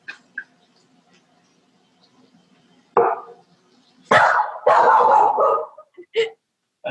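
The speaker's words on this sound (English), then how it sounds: "That's my dog." A pet dog in a home kitchen gives a few sharp barks and yips at close range, scattered irregularly between quiet pauses.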